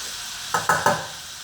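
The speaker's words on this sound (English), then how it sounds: "So I'm going to put the onions right now." Three quick scraping strokes of a spoon stirring onions in a soup pot for cabbage soup, close and evenly spaced over a faint background hiss, with no voices.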